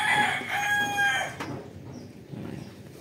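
A Colson Cross gamefowl stag crows once, loud and close, with a drawn-out call lasting about a second, followed by quieter clucking and yard ambience.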